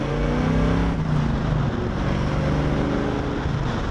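A 1973 Chevrolet Camaro engine roars loudly and continuously, revving through the gears with a deep rumbling exhaust note, steady and close throughout.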